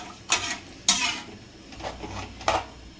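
A utensil scrapes and knocks against a pot while tomato juice and water are stirred together for plain kuska, a few distinct clinks over a quiet simmer, close and without speech.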